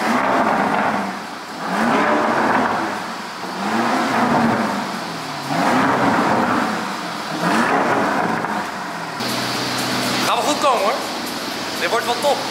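A tuned car's engine revs on a dynamometer roller bench in repeated rising-and-falling pulls, loud and close, with a whirring tone near the end and people talking underneath.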